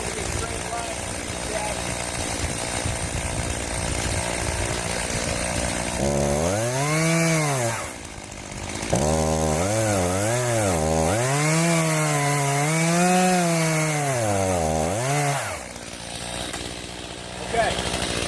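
A chainsaw makes the felling cut on a standing tree, running loud and close at a steady idle before revving hard in repeated rising and falling bursts as it bites into the wood, with someone speaking over it at times.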